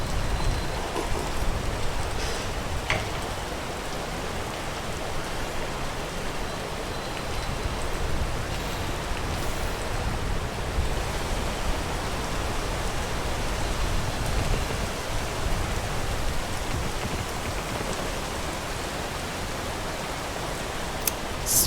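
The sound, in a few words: rain falling in a rainforest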